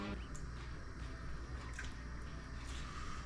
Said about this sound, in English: Now you're going to ladle in a couple ladles of the sauce.